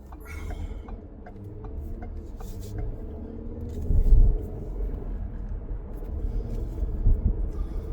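Steady low engine and road rumble from a car being driven through a city, continuous and fairly loud with a brief louder swell partway through, no talking.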